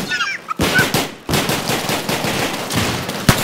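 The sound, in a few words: gunfire from a first-person shooter video game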